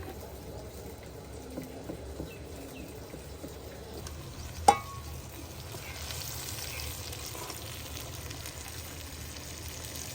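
Whole spices and round dried red chillies frying in hot oil for a village-style daal tadka, a steady soft sizzle with light stirring throughout and one sharp clink midway.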